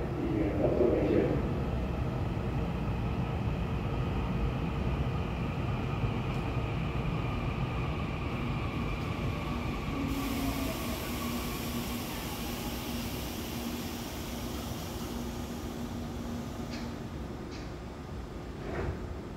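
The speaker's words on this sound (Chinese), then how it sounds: "列车即将进站" A Taiwan Railway train pulls into the platform at Songshan station, a steady rumble and hiss with faint squealing tones and announcement-like voices drifting over the continuous roar throughout.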